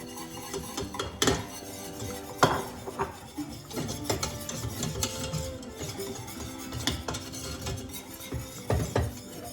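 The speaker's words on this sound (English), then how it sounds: "now I'm gonna add the poppy seeds" Poppy seeds added to melted butter in a pan, heard as close clinks and scrapes of a utensil against metal with irregular stirring and a faint sizzle, no talking.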